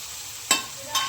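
Green onion, capsicum and tomato hit a hot pan with mustard seeds, giving two bursts of sizzle over a steady low background frying hiss, close and moderately loud, with no talking.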